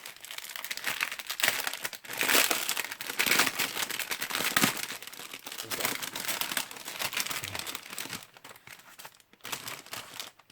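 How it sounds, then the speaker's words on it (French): Plastic packaging of a paint-by-number kit crinkles and crackles steadily as it is opened up close, with brief pauses near the end. "Désolé du bruit."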